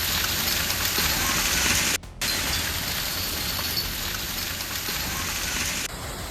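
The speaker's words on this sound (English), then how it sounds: "Dense hail falls as a thunderstorm sweeps across Texas" Dense, steady rain and hail hiss loudly on surfaces during a thunderstorm in Texas, a continuous noisy downpour broken by one brief gap.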